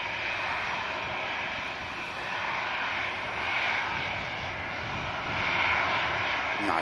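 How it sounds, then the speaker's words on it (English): An Air France A220 airliner touches down at Manchester Airport with a steady, distant roar of jet engines that swells slightly as it rolls along the runway. "we do have the Air France 220 touching down on the back of shot there."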